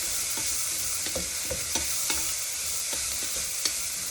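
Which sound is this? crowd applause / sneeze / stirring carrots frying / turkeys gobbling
stirring carrots frying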